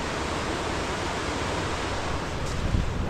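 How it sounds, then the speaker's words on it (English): Rapids on the East Lyn River rush through a narrow mini gorge in a loud, continuous roar of churning water, steady throughout with a slight surge near the end and no talking. "Look at the water charging through there."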